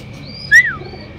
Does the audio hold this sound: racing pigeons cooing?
yes